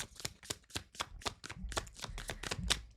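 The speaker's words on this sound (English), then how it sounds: "And we're going to just shuffle one." Tarot cards being shuffled by hand, a run of about a dozen quick crisp riffling bursts in steady rhythm, close and fairly soft, with a low thump toward the end.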